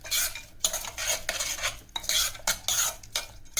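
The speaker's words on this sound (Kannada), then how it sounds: "ನೋಡಿ, ಈ ಥರ ಮಿಕ್ಸ್ ಮಾಡಿಕೊಂಡು ನೋಡಿ ಚೆನ್ನಾಗಿ ಮಿಕ್ಸ್ ಮಾಡ್ಕೊಳ್ಳಿ." A spoon stirs pongal mixed with a ghee tempering in a pot for a Navratri offering, scraping and clinking against the metal in quick, repeated strokes that stay close and fairly loud, with no talking.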